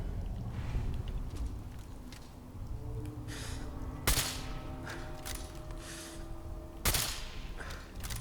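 A gauss rifle fires in Fallout 4, with two sharp, loud shots cracking a few seconds apart over a dim, rumbling game ambience.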